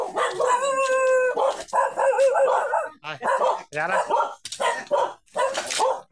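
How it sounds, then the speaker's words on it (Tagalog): Dogs bark and howl at a house where scrap is being collected, loud and close, with people talking over and between the barking. "Akala ko baka may aso dito."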